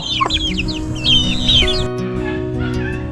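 Several chickens cluck and squawk close by, overlapping calls in quick bursts over a steady low engine-like hum.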